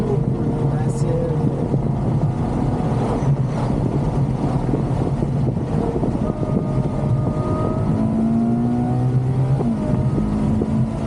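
A Ferrari GTC4Lusso's naturally aspirated V12 pulls hard under acceleration, its engine note climbing in smooth rising sweeps over steady road and wind roar inside the cabin, with voices talking over it.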